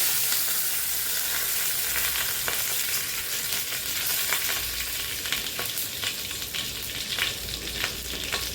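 A bay leaf sizzling and frying in hot oil left after frying pabda fish, a continuous bright crackling hiss with small pops throughout and no talk.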